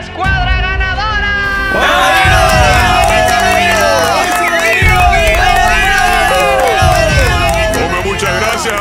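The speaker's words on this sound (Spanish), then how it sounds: "Ya basta de tantos aplausos." A large crowd cheers and shouts in celebration for a returning winning squad, a loud continuous roar with high whoops and voices layered over it, steady from start to end.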